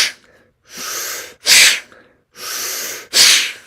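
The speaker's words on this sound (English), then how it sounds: "then you're forcing it out through the nostrils, kind of like a sneeze" Forceful diaphragmatic breaths pushed out through the nostrils in a sinus breathing exercise, four strong rushes of air in alternating long and short bursts, loud and close, sounding sneeze-like.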